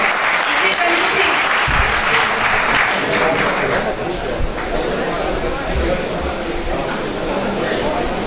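An audience at a Pakistani poetry mushaira in Layyah breaks into sustained, loud, crackling applause lasting the whole stretch, with faint crowd chatter mixed under the clapping.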